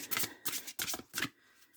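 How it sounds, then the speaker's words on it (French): Tarot cards handled on a table: four short, close riffling and sliding bursts in an even rhythm, each about a quarter second, then quiet, with no voice. "Je vais recouvrir les cartes négatives parce que je voudrais en savoir un tout petit peu plus."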